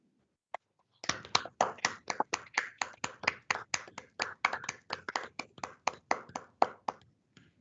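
A small group of appellate judges applauds new lawyers over a remote connection, a sparse, uneven run of crisp individual claps lasting several seconds, close and dry against silence, with no talking.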